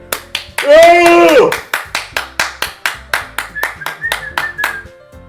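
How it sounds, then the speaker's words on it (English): A lone character clapping in the Doki Doki Literature Club video game, a steady rhythm of sharp, close hand claps repeating about four times per second, with a voice speaking briefly over the opening claps. "I'm the first one to start applauding."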